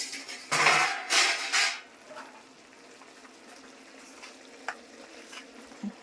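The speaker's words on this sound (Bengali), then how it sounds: "এখন ঢাকা খুলছি" A metal lid clanks and scrapes as it is lifted off a cooking pot in a home kitchen, two or three sharp clatters up front before a faint quiet simmer carries on alone.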